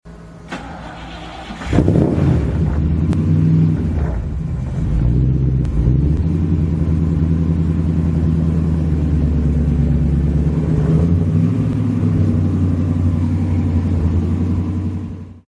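A Beaufort kit car built on 1977 Cortina Mark IV running gear and fitted with a 3.5 litre Rover V8 fires up after a brief quiet start, then settles into a loud, steady, deep idle rumble with slight revs near the end.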